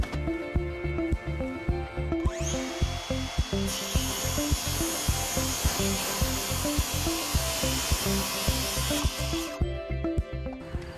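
Power saw with a taped shoe cutting through a metal deck stair rail panel: a continuous harsh, grinding cut with rhythmic pulsing, loud and close, brightening into a hissing screech midway before easing off near the end.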